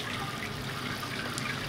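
Water pumped and recirculating over a grain bed during all-grain brewing of a New England IPA, a steady soft trickling flow, continuous and fairly quiet with no talking.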